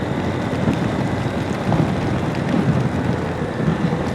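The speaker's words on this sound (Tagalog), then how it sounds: "medyo malakas yung ulan dito" Steady dense hiss of heavy rain in Taiwan, broadband and continuous, with a low rumbling wash underneath and no voices.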